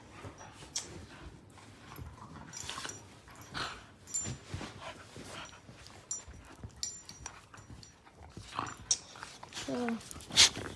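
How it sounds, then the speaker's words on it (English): Two lively dogs, one white and one black, make restless yelps, whimpers and scuffling noises in short bursts close by, with a person's voice present at times. "These are my more rather crazy dogs, Sky and Diego."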